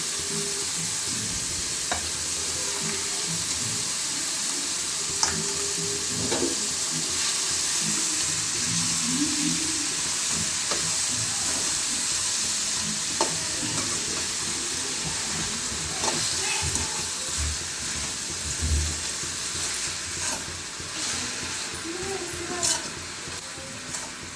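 Ridge gourd stir-fry being mixed in a hot pan, with steady sizzling and scraping stirs running throughout, loud and close, with occasional sharper clinks and no talk.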